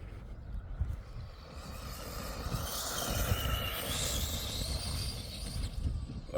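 A small RC vehicle, driven flat out at full throttle, whines in a high, steady buzz over rough, crackling outdoor noise, building louder through the middle and holding strong to the end; no one speaks.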